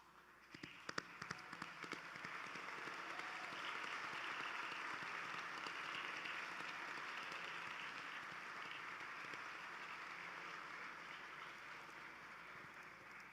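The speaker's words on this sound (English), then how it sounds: "I ask you, our graduating class, to stand together in applause to express thanks to your parents, grandparents, and other family members who joined you here today" A graduating class at a 2024 commencement ceremony stands to applaud their families, producing a dense, steady wash of crowd applause that swells early and holds for over ten seconds.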